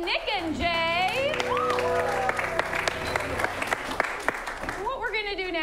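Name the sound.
audience applause for improv performers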